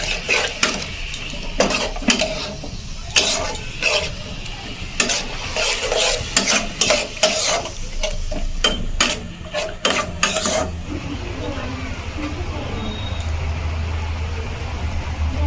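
Palm pitha filling with milk being stirred in a pan over low heat, with a quick run of scraping, clattering spoon strokes against the metal, then a steadier quieter sizzle toward the end, no talk.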